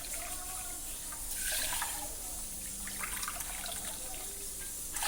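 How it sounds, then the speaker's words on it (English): Water runs and splashes from a tap into a pan of sugar for making syrup in a home kitchen, a steady close trickle with a brief louder gush partway through. "So I'm adding my sugar and water."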